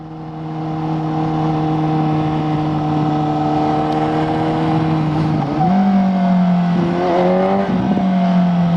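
Suzuki GSX-S750Z motorcycle engine droning steadily at speed while riding, a continuous loud inline-four tone with a brief dip and recovery in revs near the end.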